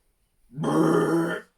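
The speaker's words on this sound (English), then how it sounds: "The wolf burped, rubbing his belly, and lay back down." A wolf burping in a read-aloud Little Red Riding Hood story, voiced by a person as a single long, low, throaty belch lasting about a second, close and clear against silence.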